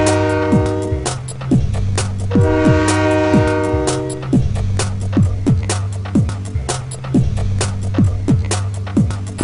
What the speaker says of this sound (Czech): Svítí slunce a projede rychlík ve směru Prdov.